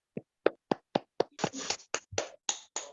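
A class of students claps hands together in a quick, steady rhythm, about a dozen crisp claps that grow fuller and louder toward the end, heard up close.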